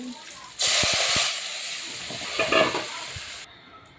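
Fried tilapia pieces drop onto a cumin tempering in hot oil, and a few soft thumps give way to a sudden loud, broad hiss of sizzling that roars for about three seconds and then cuts off.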